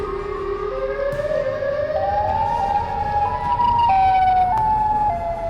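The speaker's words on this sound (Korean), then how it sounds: "그리고 사이렌 헤드의 소리가 들려와." A loud siren wails continuously, its pitch sliding upward and then stepping between tones, with a low vehicle rumble underneath.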